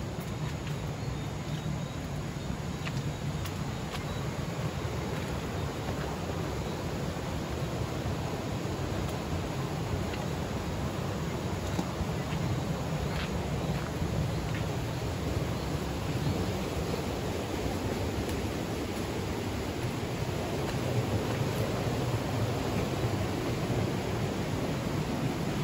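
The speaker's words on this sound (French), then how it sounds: "La voilà, cette petite merveille, une petite cascade naturelle." A small natural cascade in a forest rushes steadily, a dense, even wash of falling water heard close and continuous with no voices over it.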